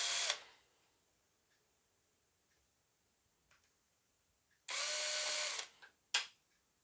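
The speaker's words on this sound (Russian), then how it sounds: "Просверливаем отверстие." Short bursts of a small drill boring a hole in the housing of a battery-powered automotive test light: a brief whine at the start, then a longer drilling burst near the end and a final quick one, with quiet pauses between.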